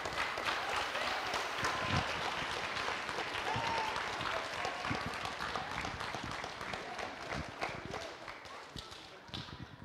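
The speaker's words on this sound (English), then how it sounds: "Let's give them all a hand of applause." Applause and clapping from a crowd at an evening preschool graduation ceremony for the 2020–21 class, dense and steady for about ten seconds, gradually thinning toward the end, with some voices mixed in.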